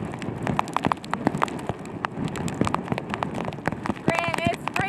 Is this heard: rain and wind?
yes